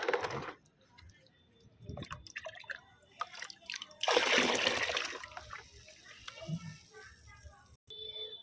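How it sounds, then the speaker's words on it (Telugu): Heavy liquid fertilizer is poured and stirred into five liters of plain water, with drips, a louder splashing burst midway and scattered sloshing, close by and moderately loud, while a person talks at times. "ఇక్కడ ఐదు లీటర్ల నార్మల్ వాటర్లో మిక్స్ చేసేసుకుందాము"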